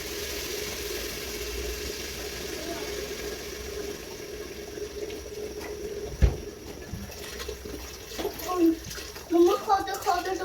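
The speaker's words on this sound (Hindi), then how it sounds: "अब हम इसमें डालते हैं पानी।" Water pours into a pot of Pakistani beef nihari, a steady close stream that turns into louder, uneven splashing and gurgling toward the end.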